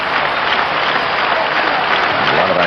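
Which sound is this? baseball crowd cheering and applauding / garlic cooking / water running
baseball crowd cheering and applauding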